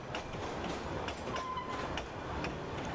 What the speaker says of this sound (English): And off the loco goes